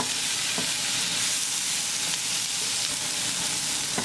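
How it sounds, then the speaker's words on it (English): Tindora and paneer sabzi cooking in a pan over medium gas, giving a constant loud sizzle and frying hiss throughout with a few faint stirring clicks. "cover with the lid, and we're going to cook it for 3 minutes. Cooking on a medium gas for 3 minutes."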